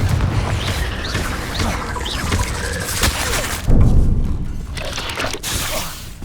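Confringo spell blasts in Hogwarts Legacy, a dense run of magical bursts and crackling impacts with one heavy, booming hit standing out partway through amid busy game noise.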